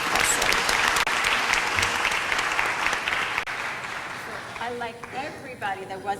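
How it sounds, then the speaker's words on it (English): Convention audience in Los Angeles at All Souls Con 2017 breaks into loud, sustained applause filling the room, thinning toward the end as a few voices and stray claps carry over. "a big round of applause to everyone"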